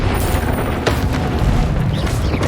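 Confringo fire spell explosions in Hogwarts Legacy, a dense burst of booming blasts and crackling impacts layered with game combat effects, loud and close.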